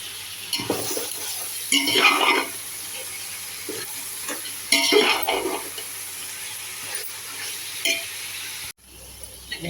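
Tomatoes salted for a large batch of tomato rice sauté in a large pot, a steady close sizzle broken by repeated scraping stirs and metallic clinks of a ladle.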